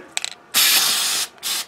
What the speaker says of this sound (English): now let's take a can, and they say turn it upside down and spray it on something.